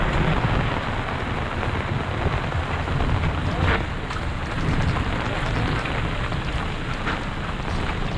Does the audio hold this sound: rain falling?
yes